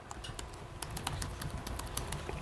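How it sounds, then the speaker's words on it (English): Quick, even taps of typing on a computer keyboard, close and clear, in a short continuous run. "You just have to type in their email address."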